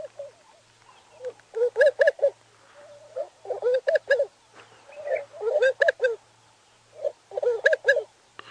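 A recorded bird call played back aloud on a sunrise safari drive: a string of loud, hooting, laugh-like phrases in short clustered bursts, separated by brief pauses and set over a faint low hum.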